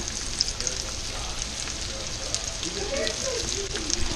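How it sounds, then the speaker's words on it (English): Cornmeal-coated king mackerel frying in a skillet, a broad steady sizzle like light rain, with someone talking over it toward the end. "And then dropping it in the skillet."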